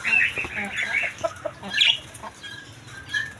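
Hens and a rooster cluck and squawk inside a cage, close and lively, with someone talking over the birds.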